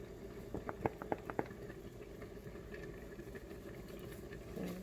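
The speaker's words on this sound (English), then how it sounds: "Hear that pasta boiling." Pasta boiling quietly in a pot, with faint bubbling and a few soft pops over a low steady background hum.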